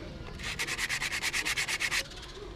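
Someone hand-sands the cooling fins of a Yamaha motorcycle engine cylinder with abrasive paper, making about a dozen quick, even back-and-forth rasping strokes, close and steady, then stopping.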